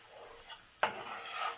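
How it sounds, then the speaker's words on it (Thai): Isan-style coconut milk noodles (mee kati) being stir-fried in a pan, a soft sizzle broken by one sharp scrape-and-toss of the spatula partway through, then continued frying hiss. "แล้วก็ผัดไปเรื่อยๆ นะคะ"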